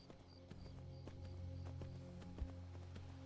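Horse hooves galloping in the fantasy game Skyrim, a steady fast rhythmic clatter of hoofbeats at moderate volume that continues throughout, over low ambient background.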